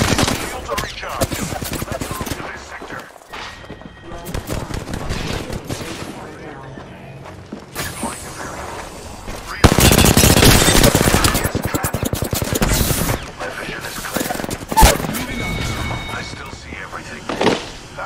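Bursts of automatic gunfire and rapid shots from enemy squads in a battle royale shooter, loud and dense, with heavy sustained firing in the middle and scattered volleys around it, mixed with game effects and some talk.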